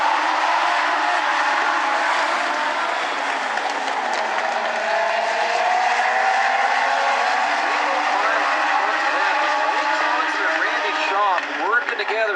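Legends race cars in a regional qualifier heat race at a short oval track, a steady broad engine roar from the pack with a rising whine near the end, heard under continuous race commentary.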